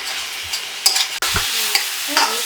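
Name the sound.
frying vegetables with tomatoes in a pan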